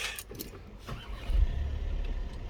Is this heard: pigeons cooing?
no